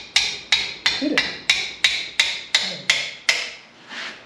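A brass hammer striking a wrench during a complete engine teardown of an MG Midget 1275, heard as about ten sharp, evenly spaced metallic strikes, close and alone.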